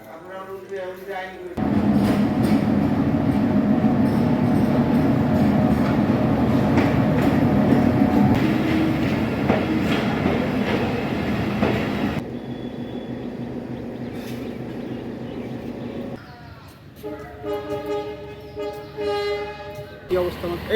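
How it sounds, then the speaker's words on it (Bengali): Passenger train carriage heard from inside while riding, a loud steady rumble and rattle of wheels on track throughout, easing briefly near the end with clatter returning. "সকালের ট্রেনে আমি গলন্দ বাজারে যাচ্ছি"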